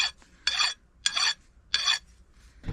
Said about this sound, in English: I am going to clean up the face of this with a mill file